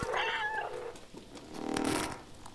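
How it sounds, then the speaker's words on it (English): A cat meows twice in the video game Stray, a clear rising cry followed after a short pause by a second louder, brighter meow, both close and alone. "Did my meow literally just destroy all those computers?"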